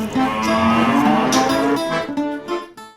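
Dairy cows on a farm that milks around fifty cows, one loud close moo after another in a continuous overlapping run, with other cattle calling behind and no talk.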